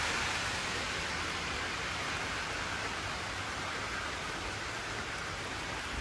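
Heavy rain pours down outdoors in East Haven, Connecticut, in August, a dense, constant hiss that stays level throughout with no voices.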